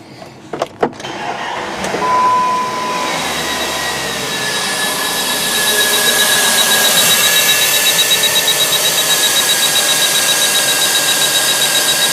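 A Power Probe IV in fuel injector test mode emits a steady electronic beeping tone that holds for several seconds and turns into a rapid pulsing whoop as the engine runs, after a few sharp clicks at the start.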